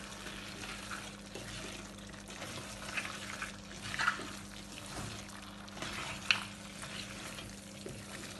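Onions and green chilies frying and being stirred in a pan for mutton curry, a steady soft sizzle with a few sharp clinks of a spoon against the pan.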